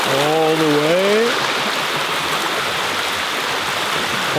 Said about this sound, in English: The water's coming down all the way,